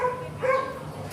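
A Shiba Inu at an animal protection shelter giving a short, high-pitched yip or bark, close and brief over light background noise.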